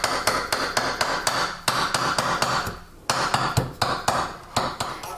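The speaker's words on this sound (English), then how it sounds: "using this nylon mallet that I have, I'm just going to round it out" A nylon mallet strikes a metal ring fitted on a ring mandrel in a jewelry workshop, tapping in a steady, even rhythm of sharp close knocks with one brief pause.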